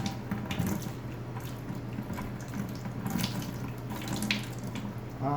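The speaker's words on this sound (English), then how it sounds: "start priming the system here by pushing on that bulb with our foot. And you can now wash your hands." Water runs steadily into a foot-pumped sink as hands are washed beneath the flow, a continuous close splashing with small fluctuations and no talk.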